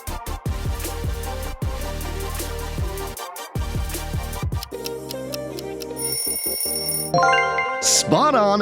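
A Realme smartphone ringtone plays a bright, melodic chime pattern of repeated plucked notes, clear and up front, shifting to higher twinkling tones near the end.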